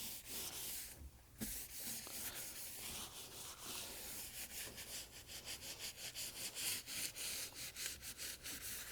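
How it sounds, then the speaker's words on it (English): A cloth dry-wiping sanding dust off a sanded dinghy transom, a continuous close scrubbing hiss that turns into a quick rhythmic back-and-forth rubbing toward the end. "to get most of the dust off, I'm just going to dry wipe this"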